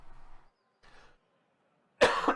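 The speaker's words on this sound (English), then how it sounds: "And I have a cough coming on." A single loud, harsh cough bursts out near the end, close to the mic, after two faint murmurs of voice.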